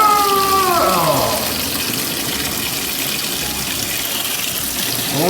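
Hot water gushes steadily from the flush line of a Noritz NRC98DV tankless water heater during descaling, a loud continuous rush of water with a brief whining tone at the start.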